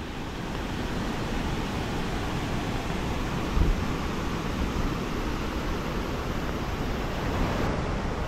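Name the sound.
Sita Falls waterfall in Ranchi, water falling from height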